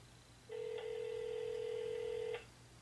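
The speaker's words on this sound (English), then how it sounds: "The phone's ringing. That sound is the sound of a phone ringing." A telephone rings once in a steady electronic tone lasting nearly two seconds, clear and fairly loud against a quiet background hum, as a call goes out to a county circuit court jury office.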